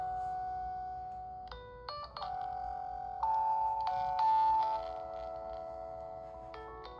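A Sony Xperia L2 phone's single speaker plays a melodic ringtone at maximum volume, sustained tinny tonal notes shifting in pitch every second or so, heard alone without any talking.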